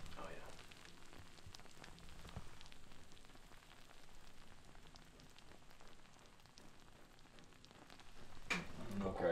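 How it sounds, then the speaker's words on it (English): Soft, continuous sizzling hiss from a baked apple pie with scattered crackles, fairly quiet and steady, ending with a few louder pops and clatter. "You can hear the sizzling."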